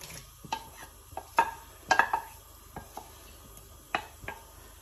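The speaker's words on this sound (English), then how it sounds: "5 to 6 spoons of oil. And I'm going to add onion first." Onion fries in about five to six spoons of hot oil for karri pakora, a soft sizzle broken by scattered clinks and scrapes of a spoon stirring against the pan.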